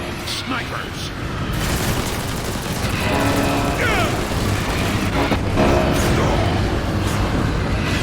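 Combat in Transformers: War for Cybertron, with dense, continuous gunfire and booming impacts under a steady loud battle din, blasts swelling and overlapping throughout, and a voice speaking over the noise.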